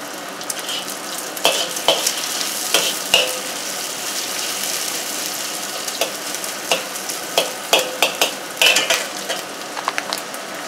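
Bacon sizzling and frying in a pan for carbonara, a steady close crackle with repeated sharp clinks and scrapes of stirring utensils against the pan throughout.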